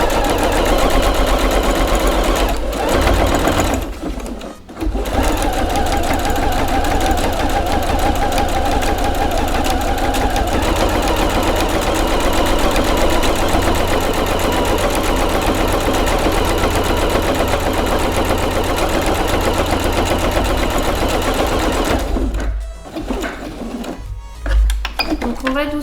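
A sewing machine runs steadily, stitching slowly through a thick handmade knitting needle case, with a continuous mechanical hum that pauses briefly near the start and stutters toward the end.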